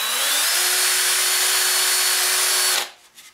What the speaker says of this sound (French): Je suis en train de percer des trous dans ma roulette de